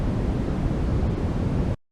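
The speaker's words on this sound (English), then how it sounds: "Pink noise." Pink noise test signal: a steady, full rushing hiss, warmer and heavier in the low end than white noise, continuous and even for nearly two seconds before stopping abruptly.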